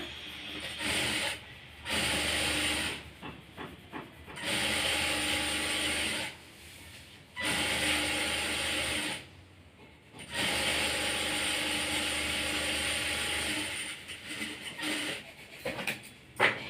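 A sewing machine runs in bursts while stitching a folded half-inch hem on a blouse sleeve, with short pauses between runs and no talking.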